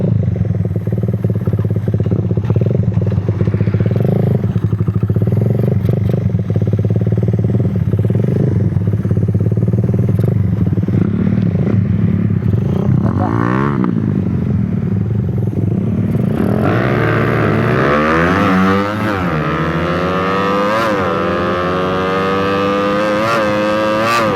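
A Raider 150 motorcycle loaded with a striker pin runs hard at speed, its engine droning loudly and steadily throughout, with rising pitch sweeps near the end as it shifts up through the gears.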